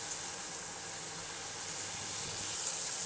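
Tomatoes frying in a pan for paneer butter masala gravy give off a steady, even sizzling hiss with no breaks, moderately loud and close, with no voices over it.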